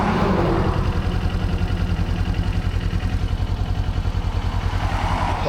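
A motorcycle engine idles steadily at a red light, a close, even low rumble with a fast pulsing beat and light mechanical clatter, with no voices.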